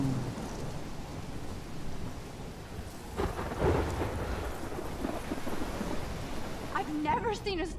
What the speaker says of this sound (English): Seen a storm like this in Oregon.